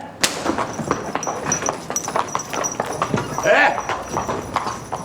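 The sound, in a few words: horse hooves clip-clopping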